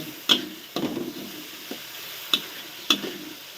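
A pan of Thai wide rice noodles with pork, egg and kale being stir-fried, with a steady sizzle broken by several sharp spatula scrapes and clanks, close and with no talking.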